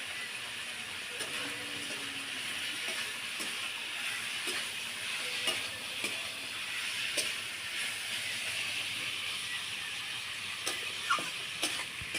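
Prawns fry with chili powder in a pan alongside ridged gourd, giving a steady, moderate sizzle and hiss with occasional light ticks and stirring taps, no talk.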